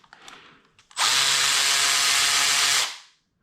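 Close, loud burst of a power tool spinning out a camshaft bolt on a BMW N55 engine, running steadily for nearly two seconds after brief quiet handling noises.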